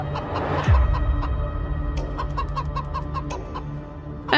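Hens clucking in short scattered calls over a low rumbling background, with a louder squawk near the start.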